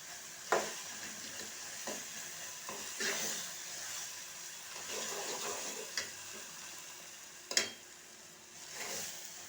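Tomatoes cook in oil with a soft, steady sizzle while a spoon stirs them now and then, making occasional clicks and scrapes against the pan, one louder knock near the end.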